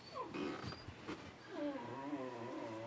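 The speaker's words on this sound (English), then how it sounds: "my dog's barking" A dog at home gives a few quiet whimpering, growl-like vocalizations, followed by a longer wavering whine, faint and somewhat distant.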